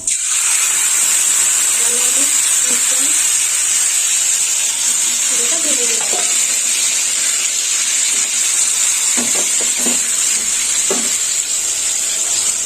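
Grated red sweet potato mixture hits hot oil tempered with mustard seeds, giving a continuous loud hiss and sizzle, with a few soft clinks and stirring knocks partway through.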